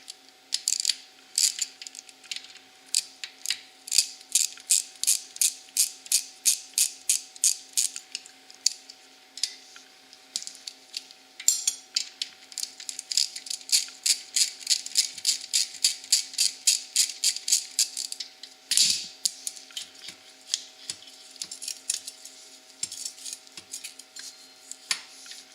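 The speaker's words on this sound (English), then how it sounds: "We're just going to sneak in here and take these two bolts out that are 12mm." Hand ratchet loosening the 12mm brake caliper bolts on a Honda 400EX ATV, long runs of rapid, close metallic clicking in steady bursts with a short pause between strokes.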